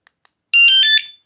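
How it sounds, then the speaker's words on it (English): Two quick chirps from a wsdcam 113dB wireless bike alarm are followed by a very loud, shrill electronic siren burst lasting about half a second, close by. "This is probably just like an alarm."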